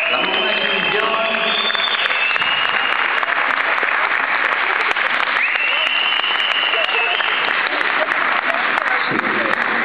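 Sustained audience applause after the final dance exhibition at a Let's Dance event, a steady wash of clapping layered over loud music, with voices mixed in.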